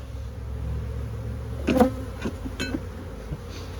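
A dense, steady drone of many bees buzzing close by in an open hive, with a few brief knocks and scrapes around the middle and no voices.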